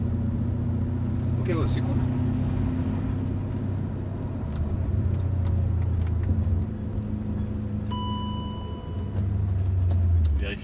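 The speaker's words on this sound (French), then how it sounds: "Et là t'as le V8 qui chante" A German 4.0-litre V8 with its mufflers removed rumbles at idle and rises in brief revs, a deep throaty burble heard close by, with people chatting casually over it.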